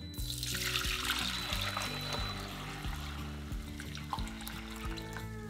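Fermented water kefir is strained, liquid pouring and splashing steadily and close, with a continuous wet rush and a slight shift partway through.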